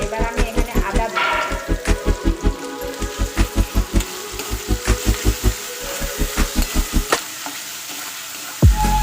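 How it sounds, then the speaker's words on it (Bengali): Ginger dropped into hot oil in a pan while preparing a lentil dal with bottle gourd, a bright crackling sizzle over a steady rhythmic thumping pulse, ending in a brief louder clatter. "এবার আমি এখানে আদা দিচ্ছি।"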